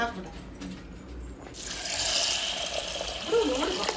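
Water runs from a tap in a home kitchen where a pressure cooker is set up, a steady broadband rush that starts partway through and continues with faint background sounds.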